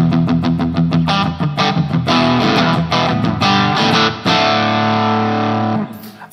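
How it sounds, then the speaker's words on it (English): Distorted electric guitar plays through a NUX Mighty Air wireless stereo practice amp with a Mesa 4x12 cabinet simulation, loud chugging palm-muted chords and riffs ending in a sustained ringing chord. "Completely different sound. It's probably the Mesa 4x12."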